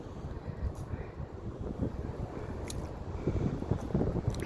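Strong wind buffeting a microphone outdoors on a farm wetland, a low, continuous rumbling roar that swells and gusts louder toward the end, with no talking.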